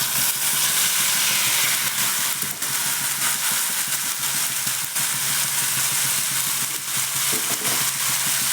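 Green beans frying in a pan for a palya, a loud, continuous close sizzle and hiss with scraping stirs throughout, no talk.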